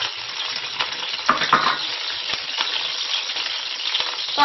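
Ginger fries in hot oil in a wok for a beef offal soup, sizzling steadily and crackling up close while a utensil occasionally stirs and scrapes the pan.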